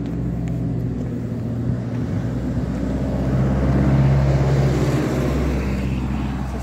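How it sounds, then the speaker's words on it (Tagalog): A school bus drives past on a road, a steady low engine rumble that swells as it nears and then fades, heard outdoors while someone walks. "Sasakyan na school bus."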